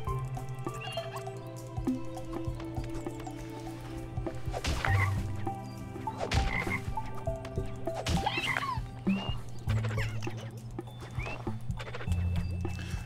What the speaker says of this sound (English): Can we get the frog to jump?